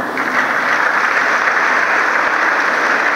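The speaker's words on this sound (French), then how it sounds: "nous applaudir" A church congregation applauds at a Sunday Easter-season Mass, dense steady clapping filling the whole stretch at a fairly loud, even level with no voices standing out.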